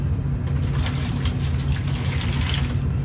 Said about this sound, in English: And we're just going to pour it in this pan.